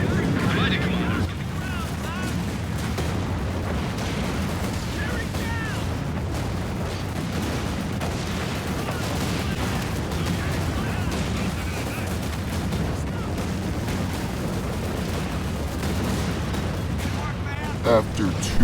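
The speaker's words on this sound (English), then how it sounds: "High explosive phosphorus mortar rounds ready to fire." Mortar and artillery fire in the World War II strategy game Company of Heroes 2, high explosive and white phosphorus rounds, heard as a dense, continuous rumble of booms and gunfire through a chaotic battle, with voices talking over it.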